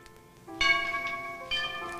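A two-note bell chime, like a doorbell, rings on a 1992 soap opera set: a clear struck tone near the start, then a second strike about a second later, each ringing on with sustained overtones and no talk over it.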